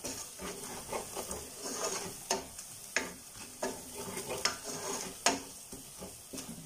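Turmeric powder frying with ginger and garlic in a pan for a spicy fish head curry, with a quiet sizzle under repeated sharp spatula taps and scrapes at an uneven rhythm.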